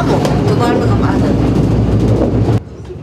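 A train pulls into Masan station on the Gyeongjeon line, a loud continuous rumble of wheels and carriages that cuts off abruptly near the end, with voices faintly mixed in.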